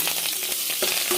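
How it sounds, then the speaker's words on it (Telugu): Dal tempering with green chillies and curry leaves frying, giving a steady close sizzle with crackling bursts that carries on without pause and with no voices. "పోపు బాగా వేగిపోయిందండి"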